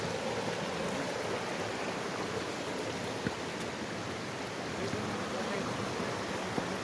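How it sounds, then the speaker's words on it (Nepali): A small mountain stream near Sikles in Nepal flows steadily, a soft, even wash of running water that holds without pause throughout. "यहाँ चाहिँ साना खोला छ खोला देख्न सक्नुहुन्छ"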